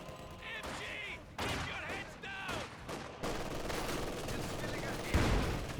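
A gun firing a barrage in Company of Heroes 2 gives several sharp reports and crashes mixed with battle noise, with a commentator talking over the action.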